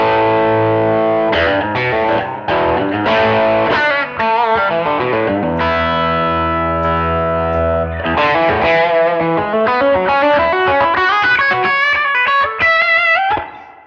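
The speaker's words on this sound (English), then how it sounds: "Get such a fat kind of singing kind of drive sort of sound" Yamaha Revstar electric guitar through a heavy, fat overdrive, loud sustained singing notes and chords, with choppy phrases giving way to long held tones and a fast melodic run.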